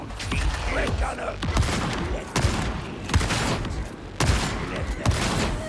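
A brutal-sounding shotgun fires in the video game Warhammer 40k Darktide, with loud booming blasts about once a second over a constant din of combat, each shot followed by a short rumbling tail.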